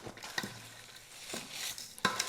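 Pickled green tomato ingredients stirred together in a bowl by hand or with a spoon, giving soft wet squelching and scraping strokes at an uneven pace, with a sharper clack near the end.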